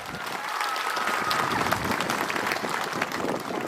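A crowd gives a sustained round of applause for Vidyut Dev Varma at an official gathering, thick overlapping clapping that swells slightly in the middle and stays loud, with no voices over it.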